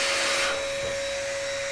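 A MECO Eleverde mini air compressor blows steadily, a loud continuous hiss with a sustained whine, running on alone with a slightly stronger burst at the start.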